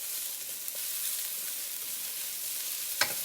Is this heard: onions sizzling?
yes